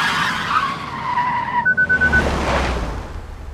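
A car brakes hard and its tires screech and skid for a few seconds, a loud sustained squeal with a pulsing chatter, rumbling off into low road noise; no talking.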